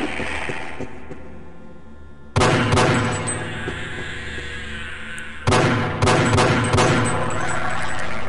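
Gunfire in Half-Life: Echoes aimed at a headcrab: two loud, sharp bursts of shots, each trailing into a long ringing decay over a steady game background, close and forceful, with no voices.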